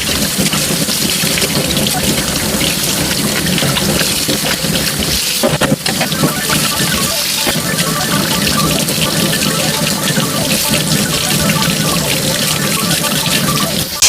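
Hot tap water gushes steadily while kitchen chimney filters are washed beneath it, a loud, continuous splashing rush that stays close and constant throughout.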